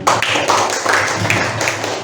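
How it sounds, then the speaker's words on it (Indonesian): Students at a high school student-council candidate debate clap in a short, sparse burst, a few distinct claps ringing out in an echoing room. "Tepuk tangan teman."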